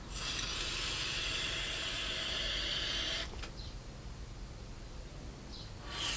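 Voopoo electronic cigarette set to 45 watts, giving a steady, fairly loud airy hiss of vapour for about three seconds, then cutting off to quieter background with brief faint puffs near the end.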